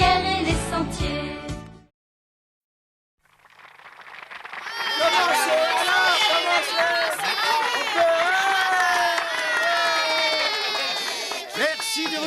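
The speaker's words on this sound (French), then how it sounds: "Merci de vos applaudissements," A crowd of young spectators at a Tom Sawyer stage show cheers and shrieks excitedly after a brief musical burst and a moment of silence, the high-pitched clamour continuing loudly to the end.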